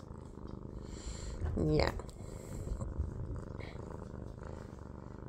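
Kittens purring up close in the morning, a steady low rumble running through the whole stretch, with a brief spoken word from a person over it.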